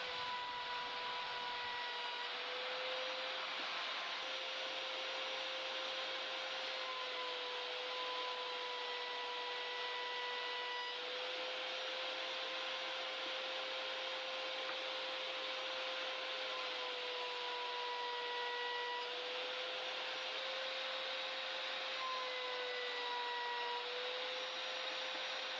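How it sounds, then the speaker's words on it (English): A homemade router table cuts wood with a loud, steady, high-pitched whine. It starts about two seconds in and holds unbroken to the end, with no voices. "it was time to test out my homemade router table"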